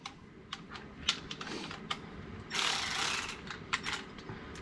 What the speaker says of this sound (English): we took our little ratchet right here